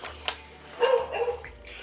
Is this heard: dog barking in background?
yes